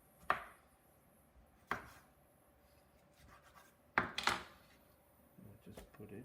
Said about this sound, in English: I'm gonna cut up my tomatoes. I'm just gonna cut into big chunks